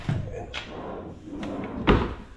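The wooden drawer of a newly assembled bed slides and knocks as it is opened and shut, giving a few scraping runs and a firmer thump near the end, close and fairly quiet.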